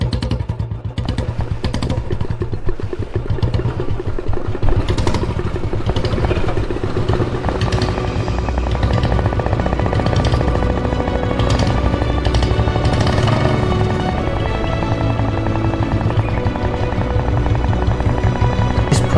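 An early Royal Enfield motorcycle engine runs continuously up close, a loud, rapid mechanical beat with clattering valve noise and steady exhaust thumping that holds for nearly twenty seconds.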